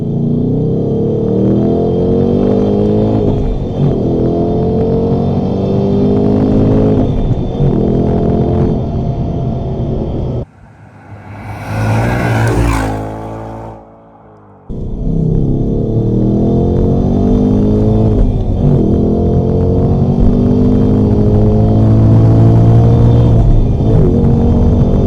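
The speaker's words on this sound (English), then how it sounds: "put the car in sport, put the steering in sport, and open up the exhaust" A car driven hard in sport mode with its exhaust open gives a loud, rumbling engine roar with rising revs. Partway through the sound cuts out briefly, there is a short burst of rushing noise, and then the heavy roar resumes.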